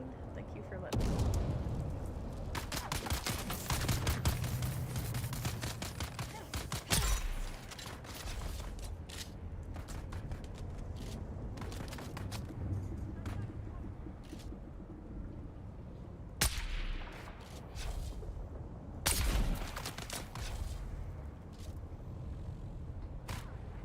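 Grenade blasts and bursts of gunfire in a Dune video game, heavy booms rising from a dense stream of clattering shots, with a player's voice talking over the action throughout.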